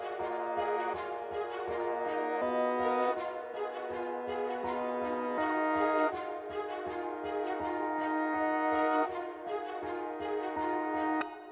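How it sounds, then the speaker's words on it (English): Reversed strings sample in FL Studio, swelling backward notes with rhythmic pulses repeating steadily over a sustained harmonic bed, clear and prominent with no voice. "Now for the strings, I went in there and I pressed Alt Y to reverse them."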